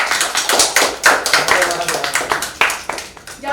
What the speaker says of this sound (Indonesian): Jadi sekali lagi kita beri tepuk tangan untuk Brian dan Ricky